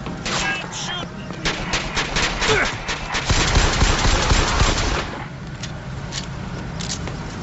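Rapid bursts of video game gunfire crackle over several seconds, dense and loud in the middle, mixed with shouting voices and game noise.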